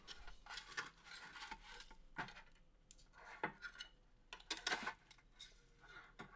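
A knife slicing through smoked beef back ribs cooked on a Primo grill, with a series of quiet, crisp cutting strokes and light scraping against the board at an irregular pace.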